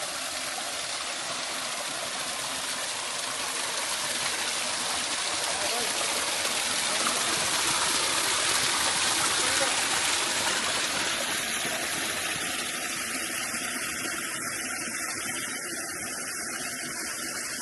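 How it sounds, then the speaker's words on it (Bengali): A clear mountain stream tumbling down from the hillside in a Korean garden, a steady broadband rush of flowing water that swells slightly midway, close and continuous with no voices. "এই যে পানিগুলা কিন্তু সবসময় পড়তেই থাকে, এই পানি আসতেই থাকে, সারা বছর পানি বয়,"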